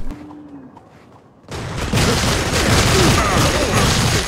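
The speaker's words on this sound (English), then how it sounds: "I love this minigun. It feels so powerful." A minigun firing in the game The Showdown Effect erupts suddenly into a loud, dense, continuous burst of rapid gunfire after a quieter opening moment, and the roar holds to the end.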